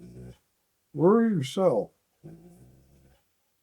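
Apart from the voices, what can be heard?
puppy whimpering and growling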